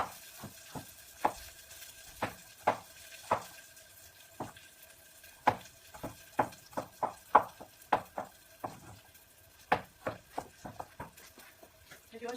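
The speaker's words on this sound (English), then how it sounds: "I'm just chopping garlic into very thin pieces, thin slices" A knife slices garlic cloves into very thin pieces on a cutting board, giving a steady series of about twenty sharp, close taps with brief quiet gaps between them.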